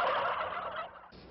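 Turkeys gobble in a field on Thanksgiving, a dense chorus of overlapping warbling calls from several birds that fades slightly near the end.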